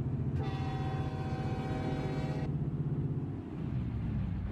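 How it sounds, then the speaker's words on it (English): In a truck simulator video game, a loud, steady multi-tone train horn on a truck blares for about two seconds over a constant low engine drone, then the engine rumble continues alone. "we have train horns finally"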